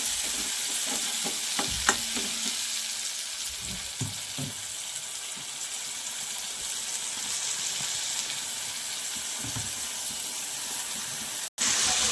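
Ginger, garlic and coriander paste frying in a pan, a steady bright sizzle with a few stirring clatters early on, close and continuous.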